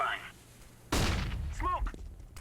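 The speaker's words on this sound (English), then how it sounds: "Throwing flashbang." A flashbang grenade goes off in CS:GO with a sudden, loud, sharp burst that rings briefly, while a game voice talks before and after it.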